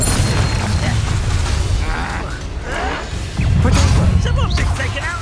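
Fiery spell blast in the Hogwarts Legacy video game on Xbox Series X, heavy booming bursts and crashes layered over continuous game music and effects, with a voice shouting briefly.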